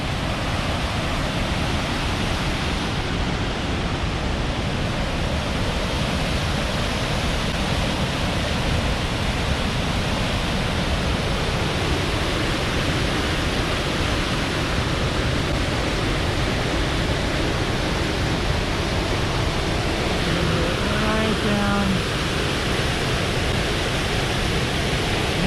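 Fall Creek Falls State Park waterfall in full flow, a dense, steady roar of rushing water that fills the whole scene, loud and unbroken throughout with no voices.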